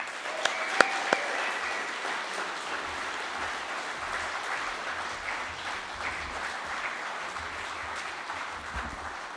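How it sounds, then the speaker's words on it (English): An audience at Porcfest welcomes a speaker to the stage with a sustained wash of steady clapping that continues evenly for several seconds, with a few louder claps near the start. "give a warm round of applause to the great Scott Horton"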